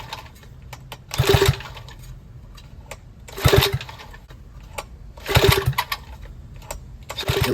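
Vintage Donelson Mini Mule small engine cranking over for a compression test, three separate bursts of rapid chugging turnover spaced a couple of seconds apart with quiet clicks between.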